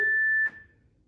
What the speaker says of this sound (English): When you hear that beep again, we're going to hold it.